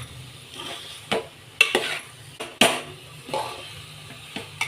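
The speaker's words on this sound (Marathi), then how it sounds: "व्यवस्थित सगळं मिक्स करून घ्यायचं।" Marinated prawns are stirred into a cashew masala in a pan, with intermittent scraping and clinking of a spoon against the pan over a quiet sizzle.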